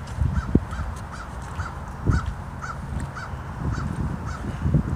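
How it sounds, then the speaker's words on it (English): A crow caws ten or so times in a steady rhythm in the foreground along the Halifax Harbour on a mild fall day, over a constant rumble of wind and harbour noise. "Crow calling in the foreground."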